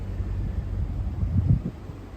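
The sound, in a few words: breezy wind in Florida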